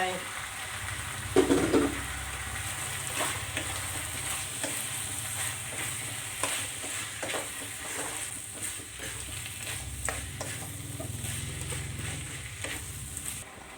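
Rat meat being stir-fried with salt, finger root and pepper in a pan, with steady sizzling and scraping stir strokes running the whole time and a louder clatter near the start.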